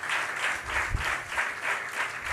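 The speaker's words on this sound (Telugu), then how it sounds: "చప్పట్లు కొట్టండి" A church congregation at an anniversary service claps in unison, a rhythmic run of about eight beats at a steady tempo, moderately loud and unaccompanied by speech.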